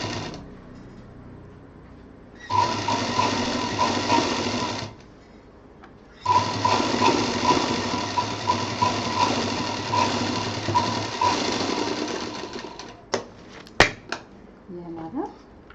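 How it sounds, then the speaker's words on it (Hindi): A sewing machine stitches a side seam through two layers of a fabric bag, with two sustained runs, the second longer, close and loud, followed by a few clicks and handling sounds. "दूसरी तरफ की तरह सिल देंगे"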